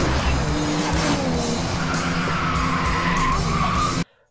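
Cars racing in a low-budget street-racing action movie, with a steady loud engine roar and tire skidding throughout, rising tones and brief screeches, ending abruptly after about four seconds.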